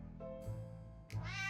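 Cartoon cats meow in the video game 60 Seconds, two short plaintive meows about half a second apart, then a longer rising meow, all over a steady low game music drone.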